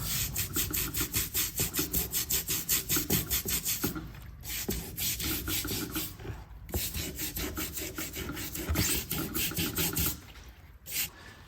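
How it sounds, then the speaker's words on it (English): A toothbrush scrubs rust off a metal tool in quick, rhythmic back-and-forth strokes, close and continuous, with a few short pauses between bursts of rubbing. "scrub a lot of this rust off."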